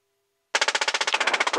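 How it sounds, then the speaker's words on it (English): Door-mounted machine gun firing from a UH-1Y Huey helicopter during an aerial gun shoot, a sudden loud, steady burst of rapid rhythmic shots after a brief quiet hum. "Left gun, stand by. Open fire with the target."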